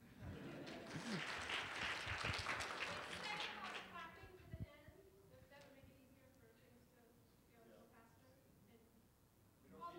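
A crowd claps loudly for a few seconds, then the applause thins out into scattered claps and faint murmuring.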